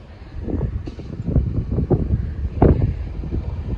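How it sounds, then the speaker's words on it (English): Gusty wind buffets the microphone in low, rumbling surges that rise and fall over a few seconds, with no one speaking. "it's getting pretty windy"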